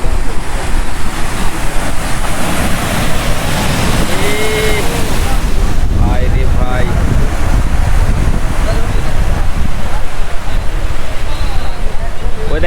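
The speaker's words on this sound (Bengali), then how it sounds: "দেখেন কত বড় বড় ঢেউ আসতেছে" Big ocean waves break heavily on Kuakata sea beach, making a loud, continuous crashing surf with strong wind buffeting the microphone. Faint voices are heard beneath the roar.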